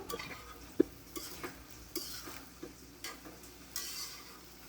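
Shrimp curry is sautéed down to a thick, dry consistency in a pan, with a soft sizzle under rhythmic scraping strokes of a spatula, about one every second, close by.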